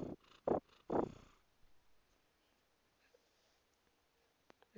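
A domestic cat purrs close by, starting with a few distinct rumbling breaths and then fading to near silence with faint small noises.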